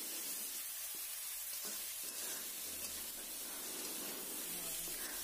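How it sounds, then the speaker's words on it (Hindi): Vegetables and chopped tomatoes sautéing for vegetable pasta, a faint, continuous hissing sizzle with occasional soft stirring knocks. "इसे भी थोड़ी देर के लिए सौते करना है, और कटे हुए टमाटर भी डाल देती हूँ, और अच्छी तरह से इसे बीच बीच में चलाते रहना है।"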